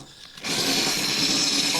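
A cordless drill with a weakening battery bores into a fishing boat, giving a steady, strained whir that begins abruptly and holds for under two seconds at close range.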